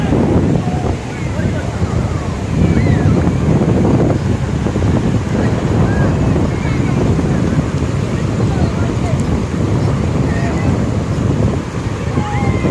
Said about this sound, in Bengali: আর সেই হাওয়া দিচ্ছে এখানে এখন।